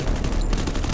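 UMP submachine gun shots fired in Free Fire, a dense, continuous burst of loud rapid gunfire filling the whole second with no voices.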